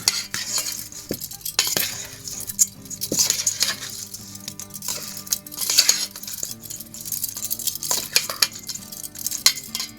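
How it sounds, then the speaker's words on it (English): Smoked chicken wings tossed in Alabama white sauce, giving close, continuous wet stirring and scraping with intermittent utensil clinks against a bowl, steady and without speech. "And then we're just gonna toss this around."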